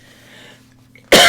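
A single sharp, loud cough bursts out at the very end after a brief quiet stretch with a faint low hum.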